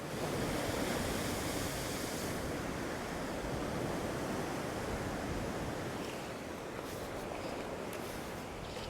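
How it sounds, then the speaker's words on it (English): Big ocean waves crash on coastal rocks in a steady, broad roar of surf, with wind rushing over the microphone and no voices. "Big waves, very nasty."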